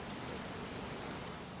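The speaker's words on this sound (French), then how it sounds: "Il s'est remis à pleuvoir, le sol est boueux et très glissant." Steady rain falls on muddy, slippery ground outdoors, a continuous soft hiss of drops with no pauses, moderately quiet and with no voices.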